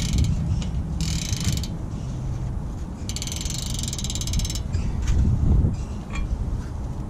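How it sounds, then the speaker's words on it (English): A hand ratchet clicks in quick bursts while pulling a new lug stud through a vehicle wheel hub, two distinct clicking runs separated by quieter mechanical shuffling and handling noise. "we just start turning"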